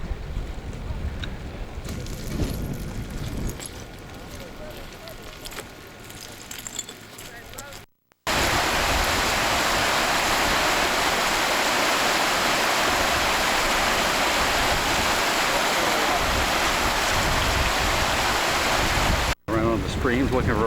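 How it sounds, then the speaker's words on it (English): A mountain stream pours in a loud, steady rushing wash that fills the second half, after a quieter, muffled stretch of water noise and a brief cut to silence. "Streams looking for a place to cross."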